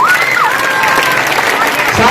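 Dense, continuous applause and cheering from a school mushaira audience, loud and close throughout, with a whistle rising above the clapping near the start.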